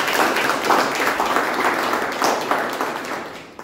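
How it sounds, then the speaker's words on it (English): A Toastmasters club meeting audience claps for the club, a dense and fairly loud round of applause that gradually thins out and fades over a few seconds. "A huge round of applause for the club"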